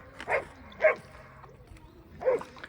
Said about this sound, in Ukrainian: Що там на нас гавкав?